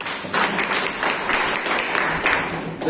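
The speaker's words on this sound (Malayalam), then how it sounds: "അതിന് നിങ്ങൾ ആദ്യം കൈയടി കൊടുക്കേണ്ടത് ഇസ്മായിൽ സാറിനാണ്." An audience at a direct-selling focus meeting in Melattur breaks into a burst of clapping, a dense, steady patter of many hands filling the room, with some voices mixed in.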